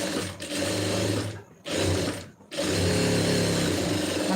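A sewing machine stitches a 1/4 inch seam on blouse lining, running in a steady rapid whir, stopping twice briefly before carrying on, close and clear with no talking.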